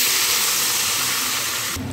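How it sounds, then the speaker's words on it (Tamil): Loud, steady sizzling hiss of mustard seeds and curry leaves frying in hot oil, continuous and close, dropping off abruptly near the end. "இப்போ நம்ம தாளித்து கொட்ட போகிறோம்"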